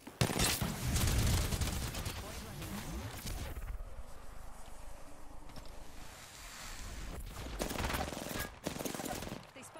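Rapid video game gunfire crackles in dense bursts, loudest at the start and near the end, with a quieter stretch of softer shots and ambient noise in between; no talking.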